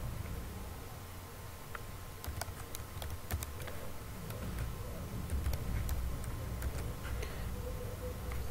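Quick bursts of keystrokes on a computer keyboard as a credit card user ID is entered, crisp close clicks in uneven clusters over a quiet room hum, no speech.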